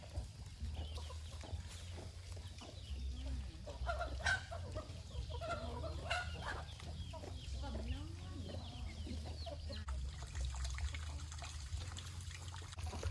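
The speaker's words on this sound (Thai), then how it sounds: "เพิ่นจะเลี้ยงไก่ตีแล้วก็เพาะไว้ขายครับ" Fighting cocks raised for breeding and sale cluck and crow under rubber trees at a rural Thai home, several birds nearby over a steady low hum and faint trickling water.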